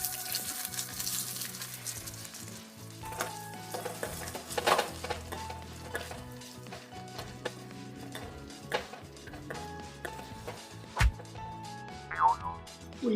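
Onions and green chilies sizzle with chana dal in a pan, a steady frying hiss broken by sharp utensil clicks and scrapes against the pan.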